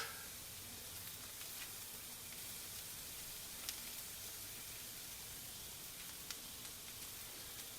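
A frozen block of hamburger meat sizzles steadily in peanut oil on a Blackstone flat-top griddle, a soft, even hiss with occasional faint pops, heard close and without talk.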